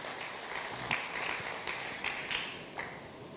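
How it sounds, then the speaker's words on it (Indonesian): A church congregation gives loud, enthusiastic applause during a sermon, a dense rolling wash of clapping with a few sharper peaks, steady throughout and without speech. "Berikan tepuk tangan yang meriah buat Tuhan."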